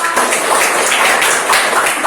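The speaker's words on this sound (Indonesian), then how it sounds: "Tepuk tangan untuk kita semua." A classroom of students claps together, a dense, even burst of applause that is loud and close and lasts only a couple of seconds.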